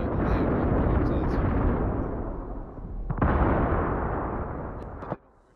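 Heavy artillery fire in World of Tanks on Xbox, a long rumbling roar of shelling, then a sharp new blast mid-way that rolls on before cutting off abruptly.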